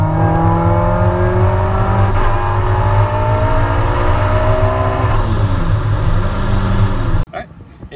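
K-swapped Mini Cooper accelerating hard on nitrous, its engine note climbing through rising harmonics, loud and close, then dipping and cutting off abruptly near the end.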